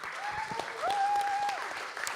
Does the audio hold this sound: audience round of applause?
yes